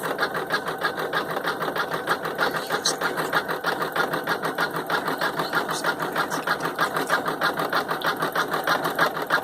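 An embroidery sewing machine stitching a face mask in the hoop runs with a steady, rapid mechanical chatter, close and continuous throughout with no pauses.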